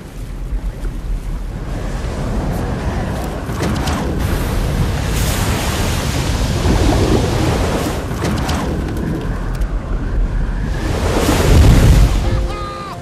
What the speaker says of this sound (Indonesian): Dan ini adalah ombak ke-7, terlihat 2 kali lebih kuat daripada sebelumnya